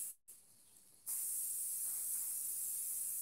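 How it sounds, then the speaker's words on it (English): After a short pause, a can of hair shine spray releases one long, close, steady hiss of aerosol mist onto Kanekalon hair extensions. "Let me spray it more with a strong"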